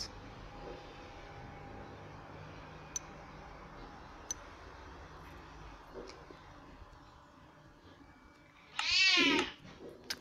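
A single short cat meow rises near the end of a quiet stretch filled with soft ticking clicks and low room hum, fairly close and brief against the otherwise calm background.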